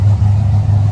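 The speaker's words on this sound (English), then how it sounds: "That's a nice truck. Whoa, that's raspy." A truck engine gives a loud, raspy, steady low rumble close by, with no voices over it.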